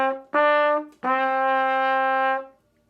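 Beginner trumpet playing two notes from a lesson exercise, D then E, with a short tongued D followed by a longer held E, clear and close with no talk.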